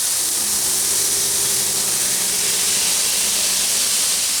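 Onion smash burger sizzling on a hot griddle, a loud, steady broad hiss of searing fat and steam with a faint low hum underneath, no voices.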